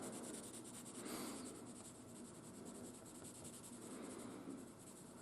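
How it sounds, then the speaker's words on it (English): Graphite is rubbed onto the sliding part of a wooden steam engine, giving a faint, close, continuous scratchy scribbling with a gentle back-and-forth rhythm. "this is a sliding part, so it's important to get the graphite on there"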